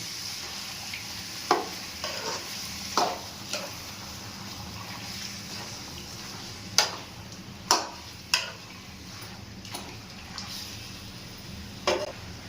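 Chicken curry being stirred in a pan, a low simmering sizzle with sparse sharp spatula taps against the metal, spaced irregularly and fairly quiet.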